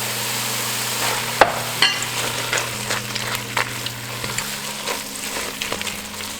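Grated potato and mushrooms frying in a pan give a steady low sizzle, with occasional stirring clatter and scrapes on top. No one talks.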